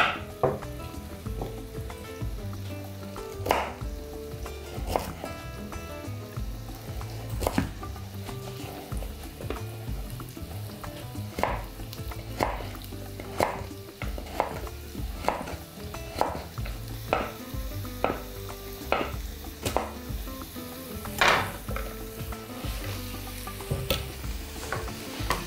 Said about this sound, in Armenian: Թող տապակվի սոխը, փափկի